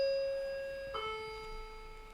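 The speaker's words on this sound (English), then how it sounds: "my doorbell just went." A home doorbell sounds as a clear sustained electronic chime, a long first tone that shifts to a second pitch about a second in and then fades slowly in a quiet room.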